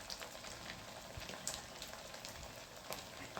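Mendu vada frying in hot oil over a lowered gas flame, a soft continuous sizzle with scattered small pops and crackles, close by and fairly quiet, with no one speaking.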